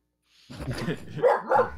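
A voice imitates a dog during a Dungeons and Dragons tabletop session, giving two short bark-like woofs after a brief stretch of breathy mumbling, close and moderately loud.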